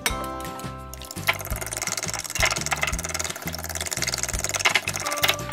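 Eggs seasoned with salt and a pinch of MSG being whisked in a Chinese takeaway kitchen, a fast, steady rattling beat of whisk against bowl, close and fairly loud, with a clattering, busy kitchen texture behind it and no talking.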